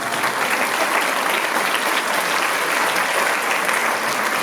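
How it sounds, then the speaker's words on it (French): Steady applause from a theatre audience at a charity show in France, dense and even clapping filling the room for several seconds with no voices over it. "Parce que c'est vrai qu'ils ont manqué ces applaudissements"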